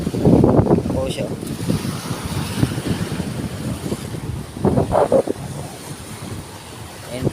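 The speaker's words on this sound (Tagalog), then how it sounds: "Medyo malakas na yung alon" Strong sea waves and gusting wind at a beach near a bridge, a rough, blustery roar with wind buffeting the microphone, while someone speaks intermittently over it.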